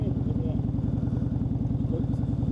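A 1997 Harley-Davidson motorcycle V-twin idles close by, a steady lumpy loping rhythm of low thumping pulses running throughout.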